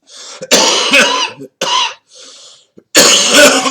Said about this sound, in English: When I cough like this